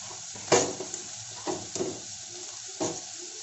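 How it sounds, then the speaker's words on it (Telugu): Chopped spring onions hitting a hot frying pan of ragi vegetable soup mix, a few bursts of sizzle with stirring scrapes and spatula clinks in between, close and moderate, no talk. "ఇందులో మనం కట్ చేసుకున్న ఉల్లి పొరుకులు వేసుకోవాలి, ఉల్లికాడలండి."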